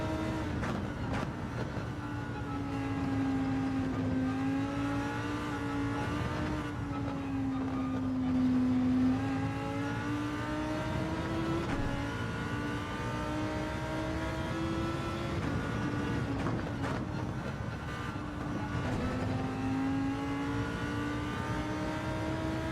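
Lamborghini Huracan Gr3 race car engine in a racing game, a high, steady drone that rises and falls in pitch through shifts and acceleration, heard close and continuous with no talk.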